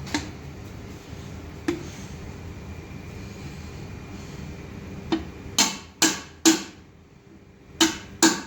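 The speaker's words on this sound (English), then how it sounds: "Push it with hammer and a special tool." A hammer drives a part into a Bitzer HSN screw compressor through a special tool during assembly, giving sharp metallic knocks: two spaced taps, then a quick cluster of harder blows over a low workshop hum.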